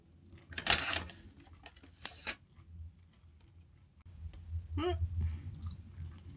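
Close, soft crunchy chewing of a mozzarella and cream cheese ball snack comes in a few short bursts of bites and mouth sounds, with quiet pauses in between.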